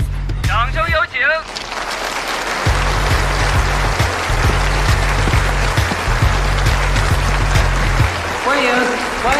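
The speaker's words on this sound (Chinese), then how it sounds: "来自中国的国际级裁判殷俊松，掌声有请。" Audience applause welcoming the head judge, an international referee from China, at a competition: steady broadband clapping over a rhythmic music beat, with an announcer's voice briefly at the start and end.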